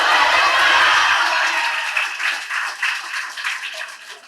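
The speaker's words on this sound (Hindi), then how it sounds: "एक बार और बताओ कैसा लगा, तालियों के साथ।" Students and audience clap after a school play, loud and close at first, then the clapping thins and gradually fades out.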